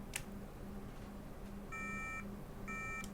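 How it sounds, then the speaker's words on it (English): A MacBook A1502 logic board gives two short electronic beeps, each a steady tone lasting about half a second, faint against a low background hiss. "we've still got our beepy beep"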